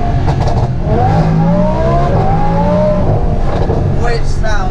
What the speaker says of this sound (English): So this is a Brooks Race exhaust, which you kind of designed and customized for yourself.